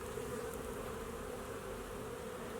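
Honeybees hum steadily around an open hive during a spring inspection in Colorado, a close, continuous drone with no voices.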